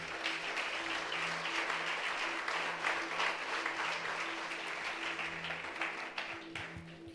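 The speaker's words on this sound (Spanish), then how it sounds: "Dele un fuerte aplauso al Señor." A church congregation gives a strong round of applause to the Lord during a Spanish-language service, a steady, dense wash of clapping that holds for several seconds at moderate distance over a faint sustained tone.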